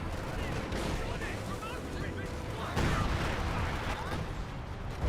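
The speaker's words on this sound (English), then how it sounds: "Officer artillery running on him once again" Artillery barrage in the Company of Heroes 2 video game, a dense, continuous rumble of blasts and gunfire with a heavier burst near the three-second mark, running loud throughout alongside the battle din.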